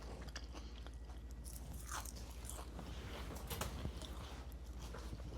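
Crunchy spinach-leaf phulki chaat, an Indian street food snack, is bitten and chewed close up, with a steady run of loud crisp crunches and scraping bites and no talk.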